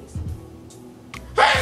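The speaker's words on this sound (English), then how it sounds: "I'm gonna sneeze." A single sharp, breathy sneeze from a person who is sick bursts out near the end, after a quieter stretch with a few soft vocal sounds.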